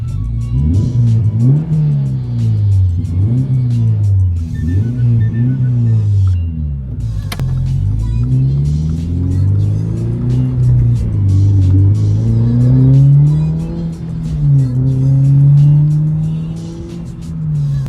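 A Subaru BRZ/Toyota GR86 with an aftermarket exhaust revs and accelerates up close through repeated gear pulls, its loud rising engine tone and exhaust drone filling the clip, with occasional talk underneath.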